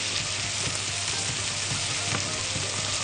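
Orzo and beef frying in a pot give off a loud, continuous sizzling hiss with faint stirring scrapes underneath, no voices.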